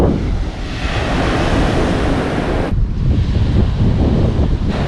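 Surf washes onto Lourdas beach on Kefalonia, Greece, a steady loud roar of breaking waves with heavy wind buffeting the microphone throughout, briefly easing near the end.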